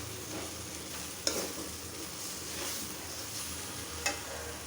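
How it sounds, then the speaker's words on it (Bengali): Breakfast food fries in hot oil in a pan with a steady, soft sizzle, and a spoon scrapes and stirs it with a couple of sharp clinks, close by with no talking. "একদম তেলের উপরে ভাজা ভাজা"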